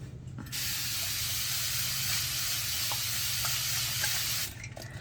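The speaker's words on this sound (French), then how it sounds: "Je prends un spray comme ça d'eau." Several close bursts of fine water mist from a handheld spray bottle directed onto a face during a morning skincare routine, a steady hissing spray lasting about four seconds, loud and alone.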